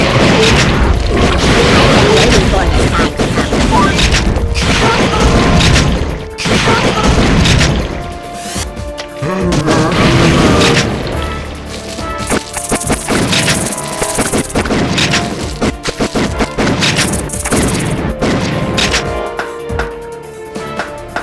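Loud, dense gunfire and repeated smashing crashes and booms from a light-gun shooter game, House of the Dead 3 on PS3, as an obstacle is shot open, with sharp bursts and impacts running continuously under game music.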